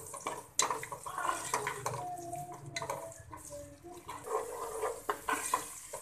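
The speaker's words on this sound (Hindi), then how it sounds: "अब इसको अच्छी तरह से सोते कर लेंगे।" Carrots sauté in a pan for chicken Manchurian, a faint sizzle with scattered scraping and clinking of a spoon stirring against the pan, close by and without talk.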